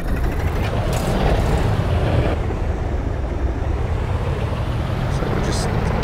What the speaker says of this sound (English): it's not a very nice sounding plane, to be honest